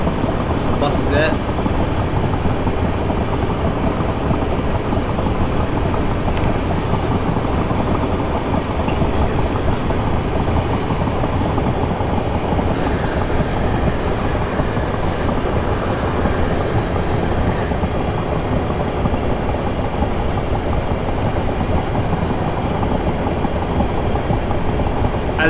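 A train in Train Simulator 2018 runs steadily toward Vauxhall on the Hampton Court to London Waterloo route, a continuous loud engine and wheel rumble with a few faint clicks and squeaks, someone talking over it at times.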